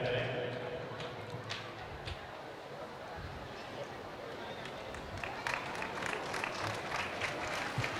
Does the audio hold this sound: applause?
yes